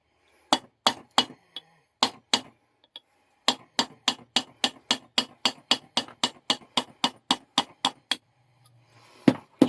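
A hammer strikes a punch to drive out a small retaining pin holding a nut: sharp metallic taps, a few scattered blows, then a steady rapid series of about fifteen close, crisp hits.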